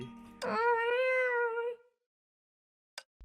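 A single drawn-out cat meow from Honkai Impact 3, clear and close, rising then holding for about a second and a half before trailing off, followed by a short soft click near the end.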